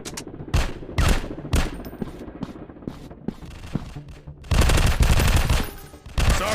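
Repeated gunfire in a Counter Terrorist FPS shooting game, several sharp single shots spaced about half a second to a second apart, then a dense burst of rapid automatic fire, loud and close with no talking.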